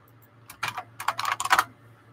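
Quick bursts of typing on a computer keyboard, clustered key clicks close by with short pauses between runs, as a search is entered.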